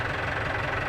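A tractor engine idles steadily up close, a dense, even rumble with a faint knocking texture and no breaks, with no voices over it.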